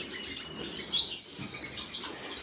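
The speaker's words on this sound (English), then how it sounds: "I've got mostly zebra finches and shaft tails in here." Small zebra finches chirp and tweet in quick, high bursts, several birds calling close by in an aviary over a soft background rustle.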